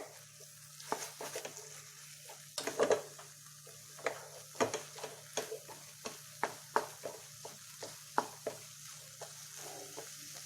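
A spoon stirs thick paneer beetroot fudge in a pan over a low flame, making a steady run of soft, close scraping strokes with a faint sizzle underneath and no talking.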